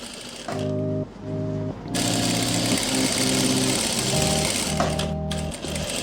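A sewing machine stitches a kurti sleeve in steady, loud, close humming runs with a rapid needle rhythm, stopping briefly a couple of times before starting up again.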